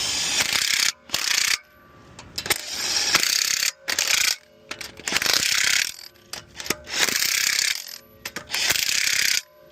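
A DSF 900 impact wrench on its second setting tightens lug nuts on a Honda CR-V, loud rapid hammering bursts repeated several times with short pauses between, close and without talk.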